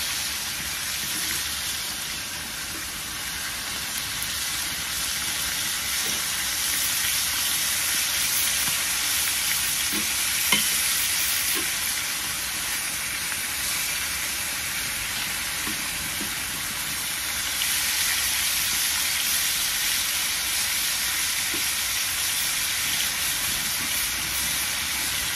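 Steak and beef fat frying in a pan, a steady close sizzle with crackling pops running continuously throughout, with no voices over it.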